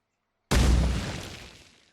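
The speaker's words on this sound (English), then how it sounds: "We're going to drop a grenade right at his feet." In the video game Burned Horizons, a grenade goes off at an enemy's feet: one sudden loud blast after a moment of silence, with a deep boom that rolls off and fades over about a second and a half.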